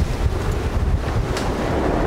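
An electric sailboat tacks in open water, with strong wind roaring across the microphone and waves washing steadily and loudly throughout.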